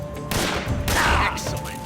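Rapid gunfire bursts in a shootout from the video game Metal Gear Solid 3: Snake Eater, loud and dense, with voices underneath.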